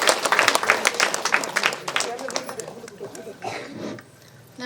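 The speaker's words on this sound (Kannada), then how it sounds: "ಚಪ್ಪಾಳೆ ಮುಖಾಂತರ ಧನ್ಯವಾದ ಕೊಡೋಣ." Clapping from the crowd at the eighth anniversary function of a pyramid meditation centre in Somasamudra village, Ballari: a burst of brisk claps that thins out and fades after a couple of seconds, with voices mixed in.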